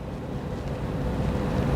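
Ocean waves give a continuous broad rushing wash, close and fairly loud, swelling slightly over the short stretch with no speech.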